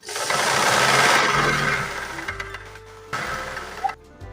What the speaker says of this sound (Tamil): இப்படி ஓரத்தில் ஒரு தையல் போட்டுக்குவோம்